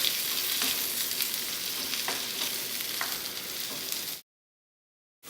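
Corn kernels sizzle and crackle steadily in melted butter in a pan while being stirred, a loud, dense frying hiss with faint scraping clicks, no voices, cutting off abruptly to silence near the end.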